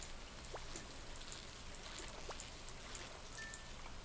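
Steady rain in the video game Stardew Valley, a constant even hiss with faint scattered droplets and a couple of soft game tones, no talk.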